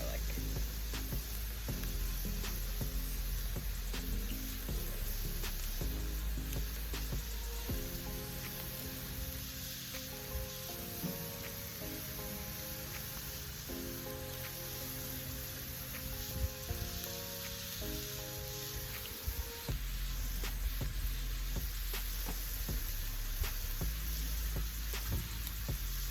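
Ground meat mixture with ginger paste and minced garlic sizzling steadily in a pan, a dense crackling hiss running the whole time with a faint tonal melody beneath.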